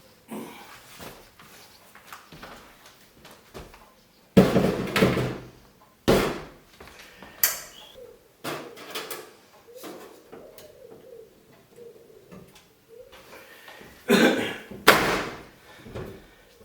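A side unit of the Elegoo OrangeStorm Giga 3D printer is slotted onto its base unit. Several sharp, loud clunks and knocks ring out, with quieter rattles and handling noises between them.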